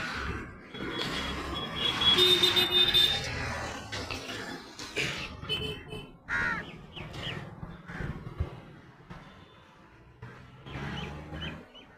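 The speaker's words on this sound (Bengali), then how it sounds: "এই যে কাক দেখতে পাচ্ছ" A flock of crows feeding from trays lined up over a river gives overlapping harsh caws, loud at first and then in scattered calls against outdoor background noise.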